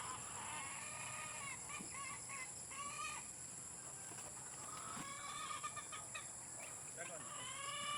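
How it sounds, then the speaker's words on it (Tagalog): Farm chickens being fed, clucking and squawking in overlapping bursts close by, with a rooster's crow woven in and a voice faintly in the background. "tamang-tamang nagpapatuka ng mga manok si Richard"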